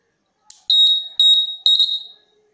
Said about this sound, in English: If earthquake occur, the nut bolt will move like this and the buzzer will make sound.